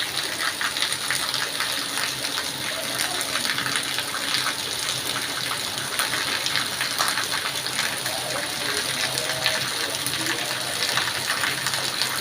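A loud, continuous gush of water pours down without pause, a full splashing rush that stays steady from start to finish.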